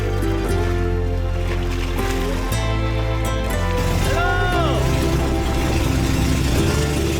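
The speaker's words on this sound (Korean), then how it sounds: "사실 방카 엔진 소리가 꽤 큰 편입니다" A bangka, a Philippine outrigger boat, runs its loud engine on the open sea off Cebu, a steady, close droning roar mixed with rushing wind and water noise throughout.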